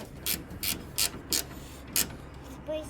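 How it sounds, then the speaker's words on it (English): A handful of quick, crisp ratcheting clicks in short bursts from a 7/16 ratchet wrench, close and fairly quiet, with no talking, during door latch repair on a Chevy Square Body. "Are you sitting on a 7/16 ratchet wrench?"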